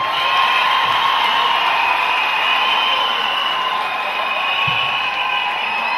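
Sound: church congregation clapping and cheering

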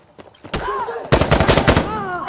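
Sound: gunfire in the video game Insurgency: Sandstorm

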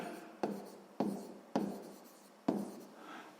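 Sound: writing

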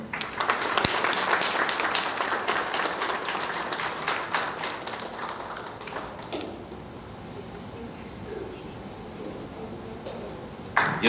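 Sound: audience applause at an award ceremony

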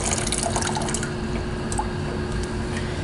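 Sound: water running from a hotel gym dispenser

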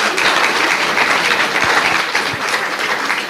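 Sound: audience applause

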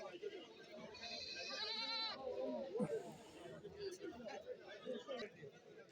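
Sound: goats bleating

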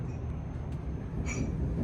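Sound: train interior riding on Polish railway

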